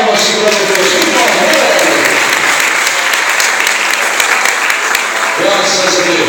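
A church congregation claps for the pastor in sustained, dense applause filling the room at steady loudness, with murmured voices underneath.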